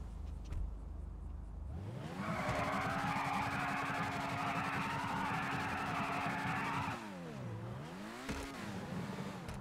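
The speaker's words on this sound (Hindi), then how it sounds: "अब गाड़ी में बैठ के बर्न आउट मारूंगा।" A car doing a burnout in the video game GTA 5: the engine roars up and holds a long, loud tyre screech, then revs drop and rise again as the skid winds down.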